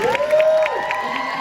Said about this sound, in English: Round of applause one more time for our guest speakers